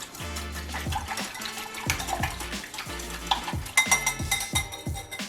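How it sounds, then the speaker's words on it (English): Half a dozen eggs being whisked in a bowl, a quick repeated rhythm of whisk strokes clicking against the sides, close and fairly loud, with no talking. "So we have a half dozen eggs here, and we'll get those nice and whisked."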